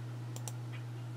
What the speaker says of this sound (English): Right click your mouse.